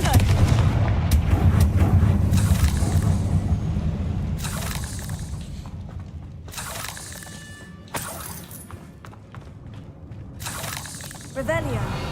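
Repeated fiery blasting-spell explosions in Hogwarts Legacy, played on the PC version with ray tracing and the ultra preset, booming with sharp cracks and shattering debris throughout amid battle noise, with a player voice and game dialogue over them.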